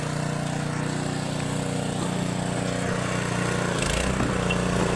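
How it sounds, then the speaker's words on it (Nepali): A tractor engine runs steadily throughout while the tractor is being driven uphill, a loud continuous mechanical drone with no talk. "आम्मामा हाम्रो ट्र्याक्टर दौडेको।"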